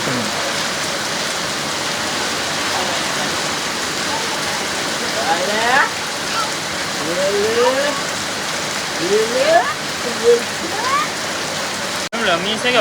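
Heavy rain pours down in a loud, unbroken hiss of drops on surfaces, with people talking over the downpour throughout.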